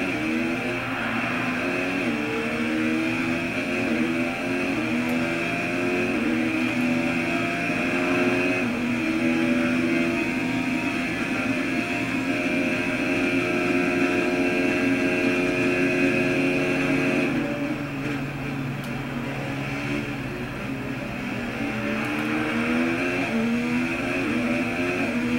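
A Red Bull Honda F1 car in F1 2019 screams at full throttle, its high engine note loud and sustained, with harmonics that climb gradually, then briefly drop and settle back near the end.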